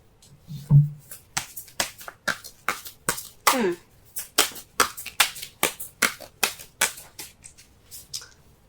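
Tarot cards being shuffled and pulled, a quick run of crisp riffling snaps in a steady, even rhythm, close by and dry, with a brief low bump at the start and no talking.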